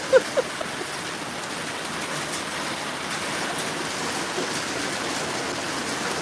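Rain falls in a steady, even hiss of drops on surfaces, continuous and close. A couple of brief knocks come at the start, and no one speaks.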